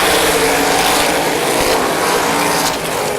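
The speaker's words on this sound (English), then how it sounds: "We're coming to green off of corner number 4 for the Hoosier Outlaw Sprint Series." Sprint cars roar together at Baer Field Speedway during a Hoosier Outlaw Sprint Series race start, a dense, loud, continuous engine blare with no voices over it.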